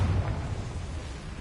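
A Confringo spell blast in Hogwarts Legacy lands as a deep booming burst, loudest at the very start and then trailing off into a low, rolling rumble that lingers for over a second.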